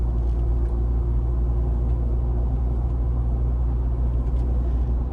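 A Mazda Bongo engine idles after an oil and filter change, a smooth, steady low rumble with an even hum, close and continuous.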